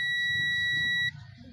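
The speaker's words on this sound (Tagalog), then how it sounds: "tutunog yung buzzer natin." Toyota Wigo 2024 automatic's buzzer, triggered through a relay during fault diagnosis, sounds a steady, high electronic tone for about a second, then cuts off, with low background noise underneath.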